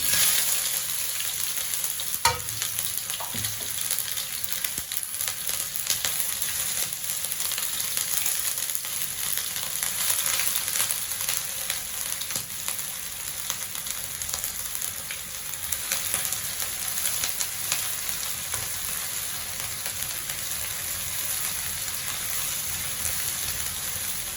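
Pork sizzles steadily in a hot pan for honey glazed pork, a dense continuous frying hiss that stays loud and even throughout, with an occasional stir, and no voices.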